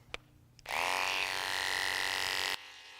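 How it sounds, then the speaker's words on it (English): Electric clippers shearing a Southdown sheep, held at a 45-degree angle against the skin: a steady, loud motorized buzz starts abruptly after a couple of faint knocks, holds for about two seconds, then cuts off sharply. "we have to have the clippers up at about a 45-degree angle to get that bevel where it attacks and hits the skin at the right angle"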